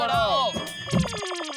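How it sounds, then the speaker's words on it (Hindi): A telephone rings in a comedy TV scene, a quick series of bright electronic ring pulses that follow a burst of voices. "आखिर सेठ जी का फोन आया"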